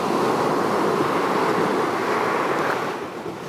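Sea waves washing onto a beach make a steady, loud broadband rush that holds for a few seconds and eases slightly toward the end, with no talking.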